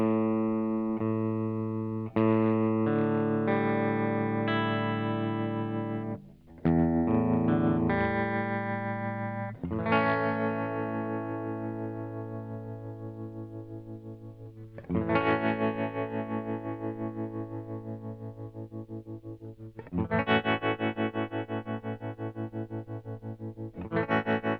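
A MayFly Terrain Deluxe guitar pedal runs sine-wave modulation at eighth-note speed on sustained electric guitar chords. The effect gives a wide, wobbling chorus-like sway, and each chord rings out and fades before the next is struck.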